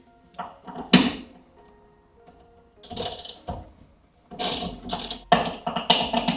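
A ratchet loosens T50 Torx bolts on a car center console, giving several bursts of rapid clicking separated by pauses, close and fairly loud, with occasional clunks of the tool.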